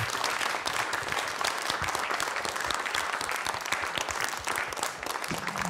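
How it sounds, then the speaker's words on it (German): An audience at an evening poetry reading in a hall applauds heartily, a dense, sustained wash of many hands clapping at close range without a break. "einen ganz großen Applaus für die beiden Moderatoren des heutigen Abends"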